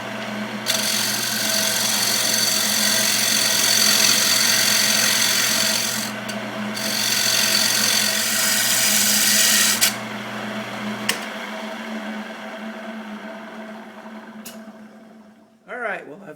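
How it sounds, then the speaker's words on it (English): A round nose scraper rasps steadily against a spinning mahogany bird feeder on a wood lathe, a continuous scraping under the motor's hum, with brief pauses and the lathe spinning down near the end. "And I think we'll use a round nose scraper for some of that."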